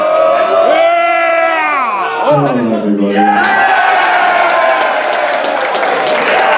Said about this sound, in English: Getting a shot of the crowd here.